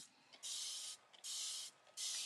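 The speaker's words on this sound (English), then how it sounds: "I'm going to use my Mr. Mister and spray this so that it loosens up the inlay sheet" A Mr. Mister spray bottle misting an inlay sheet, three quick hissing sprays in a steady rhythm with short pauses between, close and crisp in a quiet room.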